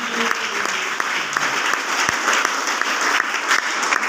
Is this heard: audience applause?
yes